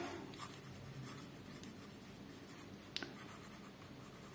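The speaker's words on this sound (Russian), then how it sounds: "пробую писать." A Jinhao 51A fountain pen with a 1.1 mm nib scratches softly across paper in quiet, continuous strokes, with a faint tap near the end.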